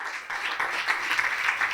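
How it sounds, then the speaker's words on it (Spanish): A church congregation breaks into applause, a brief burst of clapping that swells quickly and stays fairly loud. "dale un aplauso fuerte al Señor"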